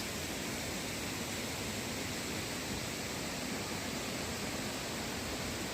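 Yerköprü waterfall in Hadim, where water falls in three branches, heard as a steady, even roar of rushing water that fills the whole stretch without a break.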